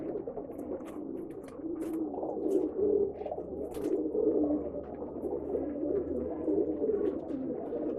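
Madeena pigeons at a pigeon sale in Bangalore coo in low, throaty rolls, several birds overlapping continuously at moderate volume, with faint background clatter.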